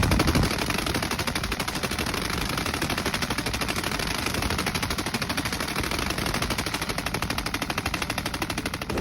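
An MG3 machine gun fires continuously in a sustained fast burst, loud and close, with rapid even reports running throughout and no talk.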